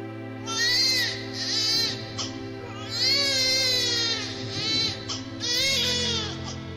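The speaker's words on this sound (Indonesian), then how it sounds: "suara tangis Ismail semakin kencang" A baby's crying sound effect wails in three long rising and falling bursts over a steady droning musical backdrop.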